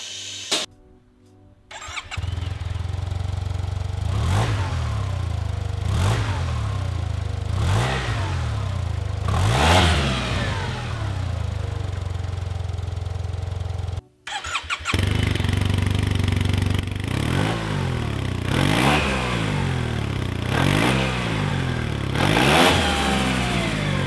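A Yamaha T-MAX scooter fitted with a Yasuni carbon exhaust, with the dB killer still installed, idles and revs on a workshop stand in repeated rising throttle blips, loud and close, with a brief cut partway through.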